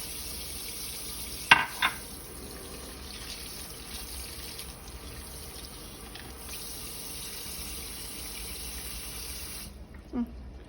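Tap water runs steadily as a glass is rinsed, a soft continuous hiss broken by a couple of brief clinks early on, then cutting off near the end.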